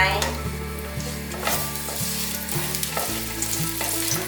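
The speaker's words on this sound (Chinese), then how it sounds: "锅内再放入一点油，准备煸香姜片，" Ginger slices fry in a little oil in a wok over low heat, giving a steady sizzle with faint stirring scrapes alongside a background music bed.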